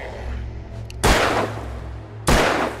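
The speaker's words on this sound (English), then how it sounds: "I shot him in the face." Two loud, sharp gunshots in the Alan Wake game, spaced about a second apart, each with a short decaying tail over a low background hum.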